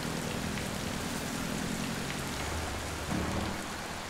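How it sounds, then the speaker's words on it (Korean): Heavy monsoon rain falls by a Korean stream where river construction work carries on. It makes a dense, steady hiss of drops hitting surfaces, close and loud, with a low rumble underneath and a brief swell near the end. "비가 오는 중에도 계속되었다."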